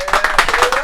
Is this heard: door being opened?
no